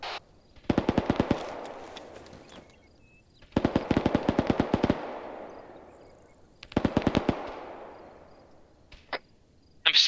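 Machine gun fire in a military video game comes in three rapid bursts of crisp, evenly spaced shots, each trailing into a decaying echo, separated by quiet gaps, with a few isolated clicks near the end.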